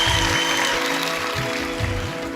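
Audience applause at an Urdu speech contest, steady clapping from a modest crowd, fairly loud and even, with a few stronger claps standing out.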